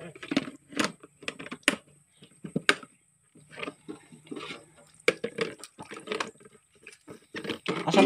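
Water runs and splashes in uneven bursts during washing with soap, with clattering handling noises and gaps of quiet in between.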